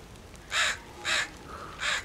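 Crows cawing in the survival game DayZ, three separate harsh caws spaced about half a second apart over a quiet outdoor ambience, with no talking.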